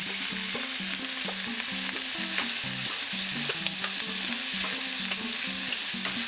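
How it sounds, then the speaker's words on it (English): Beef for empanada filling browns in a little oil in a pan, with a continuous bright sizzle and occasional crackles running at a steady level over soft melodic background tones, with no voices. "take and brown the beef in a little bit of oil"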